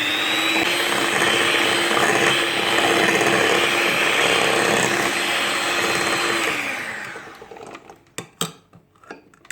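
An electric mixer churns dahi bhalla batter with a loud, steady whirring drone for several seconds, then winds down and stops, followed by a few scattered clatters.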